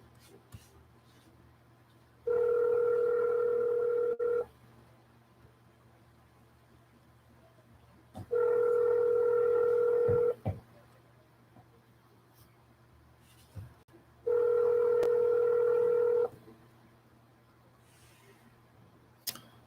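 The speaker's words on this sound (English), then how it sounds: "You just keep dialing." Three long steady telephone dial tones, each lasting about two seconds and separated by quiet gaps with faint clicks, heard clearly and close over a low background hum during a series of cold calls.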